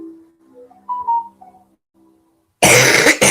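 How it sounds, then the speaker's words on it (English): A single harsh, loud cough bursts out near the end, after a stretch of soft tonal beeps and near silence. "Oh my gosh, I hate to cough."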